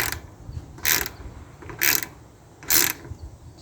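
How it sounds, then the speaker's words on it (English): A 10mm ratchet tightens a solar panel mount on a truck, making three short bursts of rapid clicking close by, spaced about a second apart. "And our 10mm ratchet. And I'll make sure it's nice and straight. And tighten that on."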